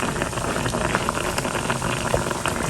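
Water hits spice paste frying in a pan for a prawn curry, giving a steady bubbling, gurgling hiss that continues close by at an even level.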